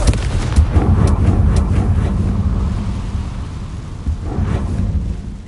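A Confringo blasting curse in the video game Hogwarts Legacy goes off as a heavy, rumbling explosion with rolling low booms and scattered cracks, loud and close, sustained for several seconds without speech.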